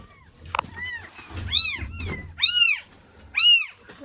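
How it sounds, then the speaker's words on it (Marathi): Three newborn kittens found inside a house give several high-pitched meows close to the listener, building to three loud cries, with a brief knock and soft rustling early on. "अरे बघा मांजरीची 3 पिल्लं आहेत"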